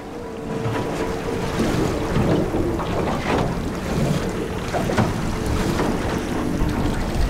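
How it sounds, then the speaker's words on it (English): Nor'easter wind of about 13 knots gusting to 15 buffets a fishing boat at sea, a steady loud roar of wind noise over the microphone with water and hull sounds beneath, no talk. "nor'easter coming over, which is doing about, maybe, I don't know, 13 knots, maybe gusting to 15."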